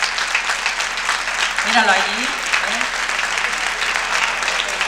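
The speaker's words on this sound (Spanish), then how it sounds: "Un fuerte aplauso para el pregonero y su familia" A festival audience at a town proclamation event in Las Longueras, Telde, applauds the speaker and his family with steady, dense clapping throughout, while a voice speaks briefly over it.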